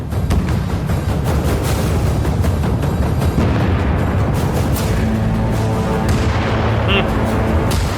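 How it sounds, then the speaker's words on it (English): Tank cannon fire and explosions from a battle sequence with a Leopard 2A4 facing Russian tanks, a dense, continuous roar of booms and blasts that stays loud throughout, with a voice talking over it. "The Ukrainian tank swiftly charges onto the battlefield, decisively engaging and destroying the Russian armor."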